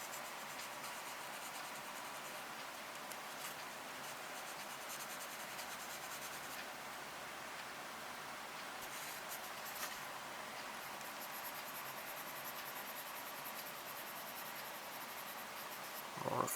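Faint, steady rubbing as 1500-grit sandpaper works over the plastic body of a 1:24 Aoshima Toyota 86 model car, a soft continuous scratch close by with no speech.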